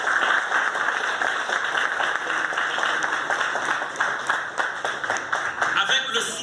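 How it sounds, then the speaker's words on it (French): Warm applause for the National Library of Haiti employees at the library's anniversary celebration, a steady patter of many hands clapping together, fairly close, with some speech mixed in. "je vous demande d'applaudir chaleureusement les employés de la Bibliothèque nationale d'Haïti"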